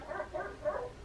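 A dog named Ella barking indoors, a few muffled, mid-pitched barks in quick succession, moderately loud, with no talk over them.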